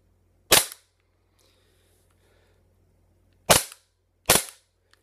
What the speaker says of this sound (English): Nice crisp blowback.